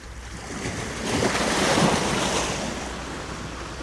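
Waves washing in on the Neath estuary in South Wales near low water, a steady close rush of surf that swells and fades, mixed with wind buffeting the microphone.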